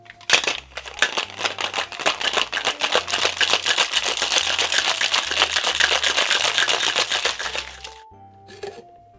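A beach cocktail shaken hard with ice in a cocktail shaker: a dense, loud, continuous rattle of ice against the shaker for about eight seconds, then a sudden stop and a few small clinks.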